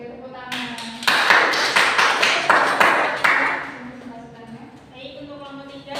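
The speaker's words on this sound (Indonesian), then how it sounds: "Oke, tepuk tangan." A classroom group claps together for a few seconds after a student presentation, a dense burst of hand claps that fades out, with a talking voice before and after.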